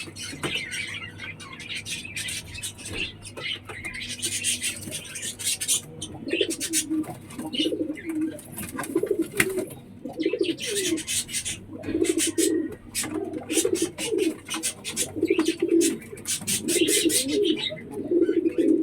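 Pigeons in a home loft coo repeatedly in low, rolling bursts, close and steady over a light background rustle, with no talking.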